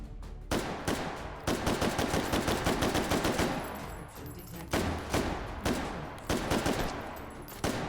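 Rapid gunfire in the VR shooter H3VR Take & Hold, with a firearm loosed in sharp, close, repeated shots, bunched into quick strings with brief pauses between them.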